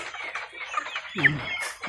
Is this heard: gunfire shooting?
no